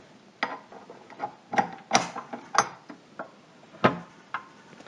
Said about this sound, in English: now I'm going to put this on my mixer